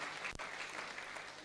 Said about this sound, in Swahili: Pigie huyo mzee makofi, nampenda.